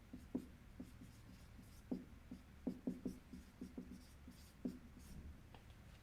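Pen or chalk scratches through a physics derivation in short bursts of strokes and taps, quiet and close, with faint room noise and no talk.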